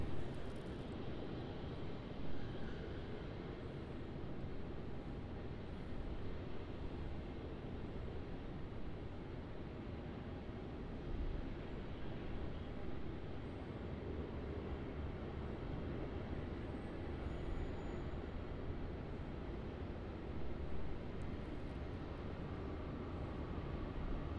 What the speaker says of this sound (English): Now arriving onto runway 34, we have a Qantas 737, and this 737 is wearing the retro Roo livery.